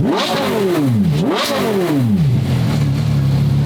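A Lamborghini SVJ engine revs hard twice in quick succession, very loud and close, each rev spiking and falling back. It then drops to a steady, throaty idle.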